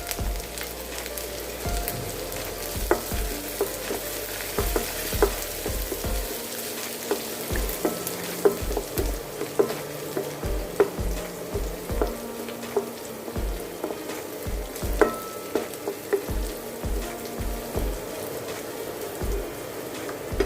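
Finely chopped ginger and garlic crackle in hot oil for vegetable fried rice, a steady close sizzle with repeated sharp taps and scrapes of a spatula against the pan, no voices.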